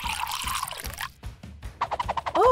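Water pours briefly into a container in a sauna setting, a close splashing trickle followed by a few short gurgles and drips.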